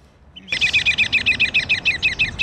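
A birder's imitated bird call, used to lure birds from trees in dry desert hills at a winter bird festival, repeats as a rapid series of about fifteen bright chirps, close and loud with no talk.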